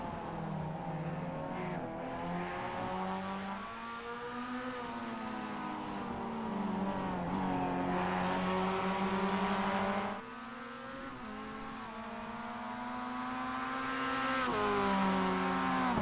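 Spec Miata race cars lap a track, their engines droning and shifting pitch steadily as they pass, loud and continuous with no talk.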